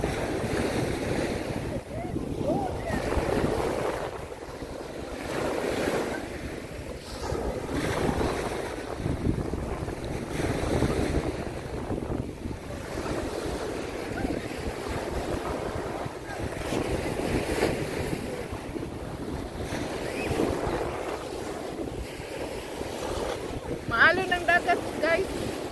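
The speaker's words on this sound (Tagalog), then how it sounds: "Maalon ang dagat." Rough sea waves at Skegness surge and crash repeatedly, with gusty wind buffeting the microphone and faint voices in the background.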